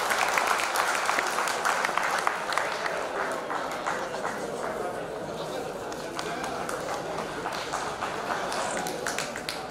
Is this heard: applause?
yes